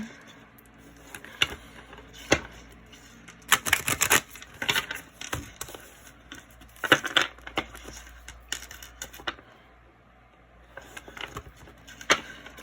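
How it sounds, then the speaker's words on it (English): Tarot cards are shuffled close up in several quick papery bursts with pauses between, a riffling clatter repeated throughout. "Just shuffle one more time and then we'll see."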